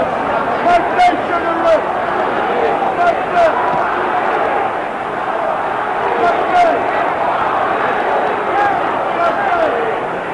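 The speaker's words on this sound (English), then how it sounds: "I can't make out, frankly, what the crowd is yelling in the background." Roar of a large boxing arena crowd at the 1970 Muhammad Ali versus Oscar Bonavena fight in New York, a dense continuous yelling and hubbub with shouts rising and falling, and a commentator talking over it.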